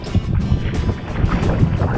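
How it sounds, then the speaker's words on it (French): A small boat's motor drones steadily beneath gusty wind buffeting the microphone, with a choppy, rushing texture throughout, near Panama City. "Dans notre petit bateau."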